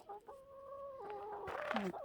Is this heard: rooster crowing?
yes